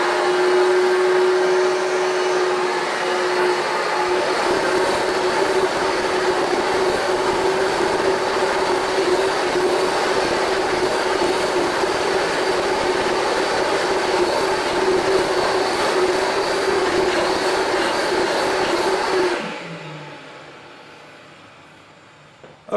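A Rug Doctor Mighty Pro X3 carpet cleaner runs with a loud, steady motor drone and suction hiss for about twenty seconds, then shuts off and winds down into quiet.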